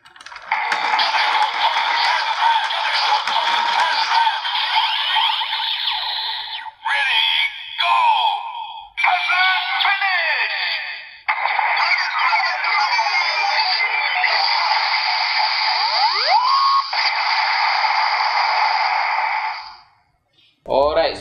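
Kamen Rider Build DX RabbitTank bottle toy blaring a long electronic attack sequence, bright synthesized effects and shrill voice-like sounds running loud and continuous for about twenty seconds with brief dropouts.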